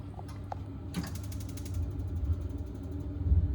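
A gas heating boiler switches on, giving a quick run of sharp, regular ignition ticks followed by a low, steady mechanical hum and faint creaks, heard close up.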